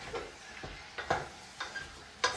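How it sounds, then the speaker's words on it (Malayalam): Beef is stirred in a pan with quiet, evenly spaced spatula scrapes and clicks, about four distinct strokes over a faint background sizzle. "ബീഫും തട്ടിക്കൊടുത്തു നന്നായിട്ട് ഇളക്കലോടെ ഇളക്കണം"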